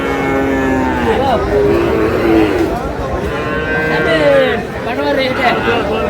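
Cattle at a livestock market moo loudly in long, drawn-out calls, several animals overlapping near and far amid crowd chatter and people talking.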